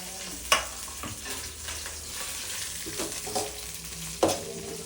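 Ginger, garlic, chili and onion frying in a pan for broccoli Manchurian, a continuous close sizzle broken by a few sharp scrapes and knocks of the stirring spoon.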